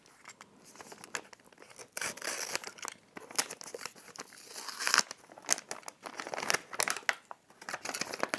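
Gift wrapping around a book is cut and torn open, with irregular crinkling, rustling and ripping bursts of paper close by, and no talk.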